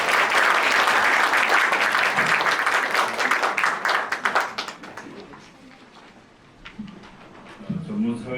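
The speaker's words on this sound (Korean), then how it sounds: "큰 박수로 받아주시기 바랍니다" An audience applauds in a hall to welcome the Yonsei University president at a library data research center launch ceremony, a dense burst of clapping that thins out after about five seconds before a voice begins speaking.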